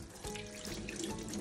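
Tap water runs steadily into a sink while Saladmaster cookware is washed with ordinary soap, a continuous close splashing flow that swells slightly after the first moments and carries on without talk.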